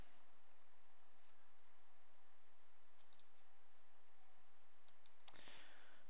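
A few faint clicks of a computer mouse while browsing WordPress themes, sparse taps near the middle and a slightly fuller burst toward the end over a quiet room hiss.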